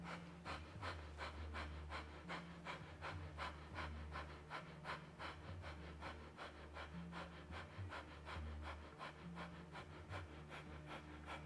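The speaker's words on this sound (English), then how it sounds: "then start a breath of fire" Rapid yogic breath of fire during a live Kundalini yoga class, a steady fast train of forceful nasal exhalations pulsing evenly and close throughout, with no talking.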